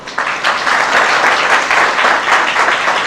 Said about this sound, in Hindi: प्रभु यीशु मसीह के लिए ताली बजा सकते हैं